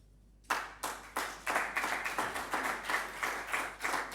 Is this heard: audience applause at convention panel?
yes